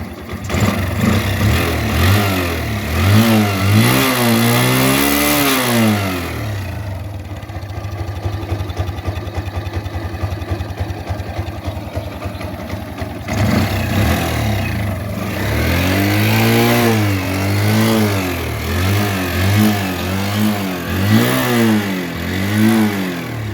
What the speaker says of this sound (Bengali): গাড়ির ইঞ্জিন সাউন্ড দেখুন, একদম স্মুথ